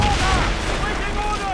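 Cannons and guns fire in a naval battle in the video game Assassin's Creed Rogue, a loud, dense barrage of blasts with shouting voices mixed in throughout.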